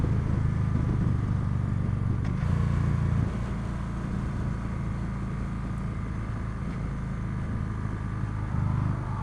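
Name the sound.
2015 Victory Cross Country motorcycle riding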